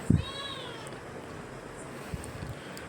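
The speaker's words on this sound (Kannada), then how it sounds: "ಊಟ ಮಾಡಿದ್ರೂ ಮಿಯಾವ್ ಮಿಯಾವ್ ಮಿಯಾವ್ ಅಂತ ಹರ್ಚ್ತೀರಾ?" A cat gives one close, drawn-out meow at the start, followed by a quiet room background with a faint soft knock.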